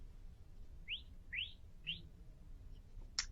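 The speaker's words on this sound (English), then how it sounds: "So if you hear those small chirps," A smartphone ear-screening app plays small chirp tones, three quick rising chirps about half a second apart followed by a brief high click, soft and clear over a faint background hum.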